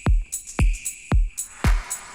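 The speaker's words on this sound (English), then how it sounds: "this is actually a reverse clap right before the real clap" An electronic drum loop in which a reversed clap swells up into each real clap, over punchy kick hits, with four tight repeating beats, loud and with no voices.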